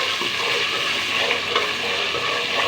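Garlic and ginger fry in hot oil for a chicken biryani, giving a steady, close sizzle with faint stirring scrapes and no talking.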